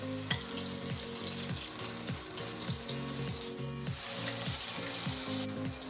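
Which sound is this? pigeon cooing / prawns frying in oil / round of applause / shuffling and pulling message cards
prawns frying in oil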